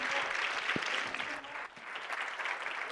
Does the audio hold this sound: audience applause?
yes